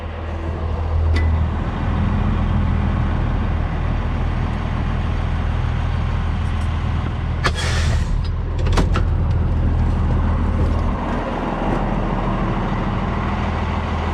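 Semi truck called Big Red pulling away from its trailer: a loud, steady low diesel engine rumble sustained close by, with a few brief hissing air bursts midway.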